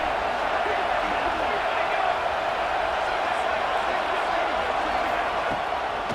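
A stadium crowd in EA Sports College Football 2026 keeps up a constant, dense roar throughout, without noticeable swells or breaks.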